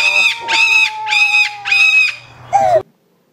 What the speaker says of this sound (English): What's wrong with that bird?